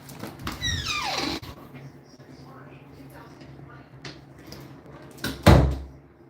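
A bedroom door in a quiet house at night creaks open in a drawn-out, falling groan, followed by soft shuffles and a heavy thud near the end.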